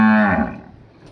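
A Cholistani Friesian cross dairy cow gives a single loud, close moo that starts strong and tapers off within about a second, with no other sounds around it.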